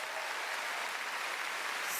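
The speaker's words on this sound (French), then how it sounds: "j'aimerais ça qu'on donne une bonne main d'applaudissement aux danseuses et aux danseurs." An audience applauds dancers at a comedy gala in a steady, dense wash of clapping that sounds distant and fairly faint.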